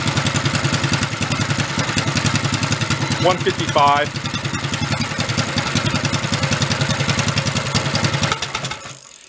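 A big engine swapped into a small 1960s Corvair Monza runs at a steady, loud idle with a rapid rhythmic pulse, someone talking over it before it cuts out at the end.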